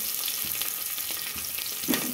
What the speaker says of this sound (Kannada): ಇನ್ನು ಒಗ್ಗರಣೆಗೆ ಏನೇನು ತೋರಿಸ್ಕೊಟ್ಟಿದ್ದೆ, ಹಸಿಮೆಣ್ಸಿಕಾಯಿ, ಕರಿಬೇವಿನ ಸೊಪ್ಪು, ಈರುಳ್ಳಿ ಮತ್ತು ಕಸ್ತೂರಿ ಮೆಥಿ ಹಾಕ್ತಾಯಿದ್ದೀನಿ